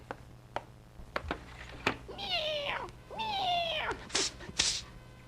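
A cat meows twice in long, wavering, drawn-out cries, clear and close, with a few scattered clicks and knocks around them in a 1949 radio comedy scene set at a Thanksgiving card game.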